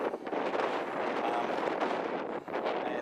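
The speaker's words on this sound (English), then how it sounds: "Hope you can hear me with the wind" Strong wind buffets the microphone at the Cairns marina, a steady loud roar with gusty rumbles that runs through the whole stretch.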